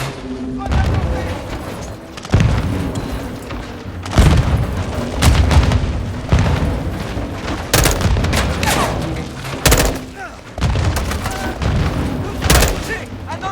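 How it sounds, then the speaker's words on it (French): Grenades burst in Call of Duty Modern Warfare 2 amid gunfire, a run of loud booming blasts and rattling shots close by, with soldiers shouting in French over the battle. "Ils lancent des grenades! Grenades lancées!"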